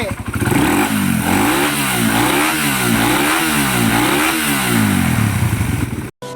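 A motorcycle engine with a freshly refreshed but still noisy exhaust revs hard and close in repeated rising-and-falling bursts, loud throughout, then cuts off sharply near the end.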